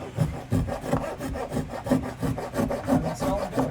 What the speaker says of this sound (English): rasping the inside of the mast hole, probably for a better fit of some sort